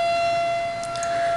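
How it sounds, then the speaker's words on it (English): A steady civil defense siren wails continuously at a distance during a storm, holding a sustained tone throughout with no talking. "Sorry about the sirens, apparently we're having a storm."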